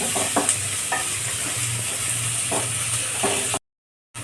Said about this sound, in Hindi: गैस का फ्लेम मीडियम रखेंगे और प्याज को बराबर चलाते रहेंगे ताकि प्याज अच्छे से फ्राई हो जाए।